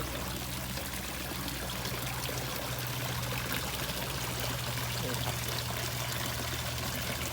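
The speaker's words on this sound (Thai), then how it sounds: "โอ้มีน้ำตกด้วยสวยสวย" A small decorative waterfall beside a koi pond at a countryside restaurant cafe near Rangsit gives a steady, even rush of pouring water that fills the whole stretch without a break.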